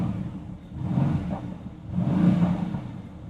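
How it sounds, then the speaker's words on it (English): Mercedes-AMG GT S V8 exhaust in sport mode, a 2016 model, revving twice in low rumbling swells about a second apart, fairly close and loud with no talk over it. "the exhaust is still loud, but if we're gonna go on a sport or sport plus"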